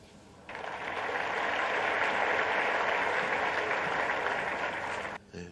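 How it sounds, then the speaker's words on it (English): Snooker arena crowd at the German Masters breaking into a sudden burst of applause that holds steady and fairly close, then cuts off abruptly near the end. "It's rogue applause, wasn't it?"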